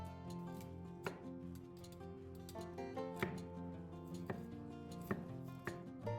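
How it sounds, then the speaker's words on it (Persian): Repeated sharp knife chops on a cutting board as broccoli is cut, irregular strikes over steady background music. "1 عدد کلم بروکلی رو خرد کنید."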